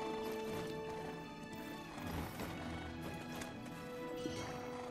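Horse hooves clip-clop steadily with occasional whinnies across open fields in the online game Black Desert, set against a continuous layered game soundtrack and ambience.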